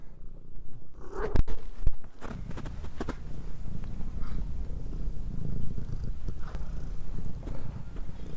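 A cat purrs close by in a horse barn while feed is handled, a low steady rumble running underneath a few sharp knocks and rustling clatters near the start.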